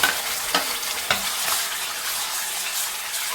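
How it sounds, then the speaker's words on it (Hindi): Masala puree for egg curry fries in desi ghee with a dense, close sizzle, punctuated by several spoon scrapes and stirring knocks, no voices over it. "अभी इसे तब तक फ्राई करेंगे जब तक ये घी ना छोड़ दे"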